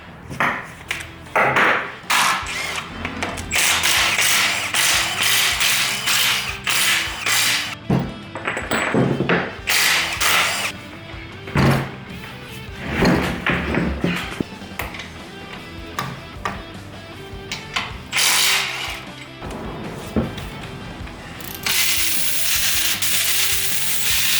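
A hand ratchet loosens the Allen case bolts on a ZF5 transmission from a Bronco, with repeated bursts of rapid clicking pawl strokes, close and loud, separated by short pauses and occasional metallic pings and thunks.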